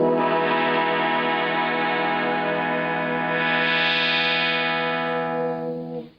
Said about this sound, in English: this is the rolling guitar synthesizer